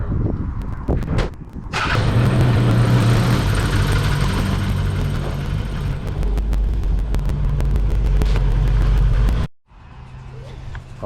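A Toyota FJ62 Land Cruiser engine rumbles steadily at low speed while the truck is backed into place, running continuously for several seconds before cutting off near the end.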